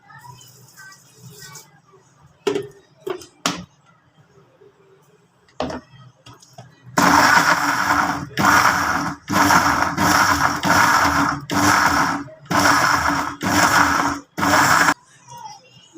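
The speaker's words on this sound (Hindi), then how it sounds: "और 1 चमचा नमक डालकर ब्लेंडर में पीस लेंगे।" A blender grinds green chillies, salt and water into chutney in repeated loud pulsing bursts, after a few knocks and clatters of setting up.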